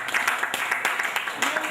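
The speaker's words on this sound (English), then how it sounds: "let's give her a round of applause." An audience claps at an agricultural talk on hydroponics and farming practices: a short, dense burst of many hands with scattered sharper claps, fairly close and steady throughout.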